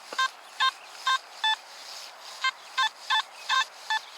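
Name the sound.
Nokta Makro Simplex metal detector target tone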